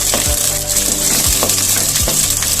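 Onion and garlic sauté in a pan for a medicinal curry, a steady sizzle and fry with periodic stirring scrapes and clinks, close and continuous with no talking.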